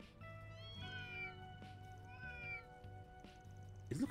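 Stray cats in the Oldtown district of the video game Trails Through Daybreak meow repeatedly, with several drawn-out, wavering calls over a soft game ambience and no talking.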